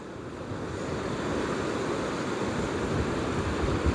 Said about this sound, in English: look at those big rapids that he has to go through